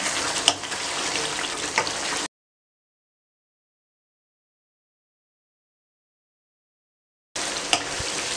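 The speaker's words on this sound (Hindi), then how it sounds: "अब आप देखें इसमें से तकरीबन दही का पानी ख़त्म हो चुका है और ये भुन रहा है" Chicken fries in a pan of yogurt sauce that has nearly cooked down, giving a steady, close sizzle with a couple of sharp ticks. The sizzle breaks off into a long silence, then resumes briefly.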